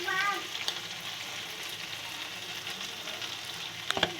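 Potato curry (aloor dum) with cashew paste sizzles steadily in a pan, a soft continuous frying hiss with a few light clinks of stirring near the end.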